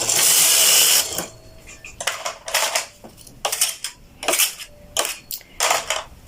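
A knitting machine's lace carriage slides across the needle bed without yarn to drop the work, giving a loud opening rush followed by a series of short mechanical clacks and sliding bursts.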